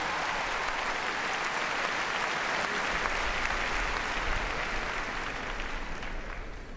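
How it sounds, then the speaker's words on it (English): An arena crowd at Crufts applauds a heelwork to music dog routine, a broad, steady wash of clapping heard from a distance that continues throughout and fades slightly at the close. "Give a round of applause"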